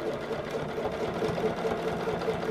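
A sewing machine quilting along a seam runs in a steady, fast, even whir of stitches, close and moderately quiet, with no voices.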